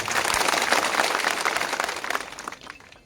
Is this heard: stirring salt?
no